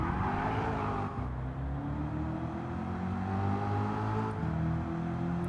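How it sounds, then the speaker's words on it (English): A Corvette in Gran Turismo 7 laps a circuit, its engine droning steadily with rising and falling pitch as it accelerates and shifts, loud and continuous with no voices. "let's do a lap with the Corvette in Gran Turismo"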